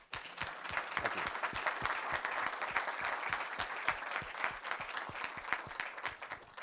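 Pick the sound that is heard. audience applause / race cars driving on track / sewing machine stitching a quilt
audience applause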